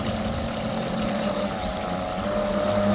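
An electric motor on an inflatable kayak drones steadily on a river, a constant close whine and hum with no clear change in pitch.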